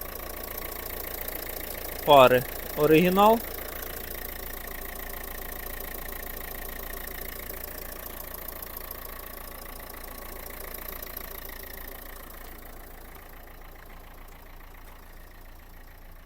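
A Renault Scenic 1.5 dCi diesel engine idles with a steady low rumble throughout, and a voice speaks two short words briefly near the start.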